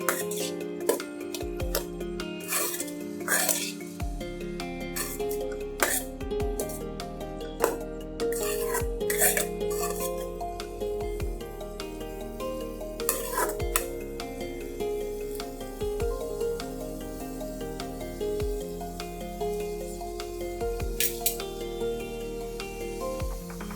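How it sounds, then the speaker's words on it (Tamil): A cabbage stir fry with turmeric is stirred in a pan, giving steady scraping and frequent light clinks of a utensil against the metal throughout, with no talking. "நல்லா மிக்ஸ் பண்ணிட்டு"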